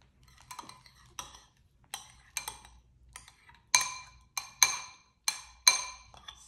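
Bhel puri is mixed with ketchup in a bowl with a spoon, giving a series of sharp clinks and scrapes against the bowl, irregular at first and then louder, close strikes toward the end, with no talking.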